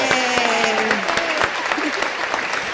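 An audience claps for a guest speaker at a Spanish-language talk on how emotions affect the body. The applause is steady and fairly loud throughout, with a few voices and cheers mixed in.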